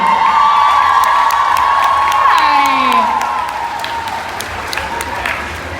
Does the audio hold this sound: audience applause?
yes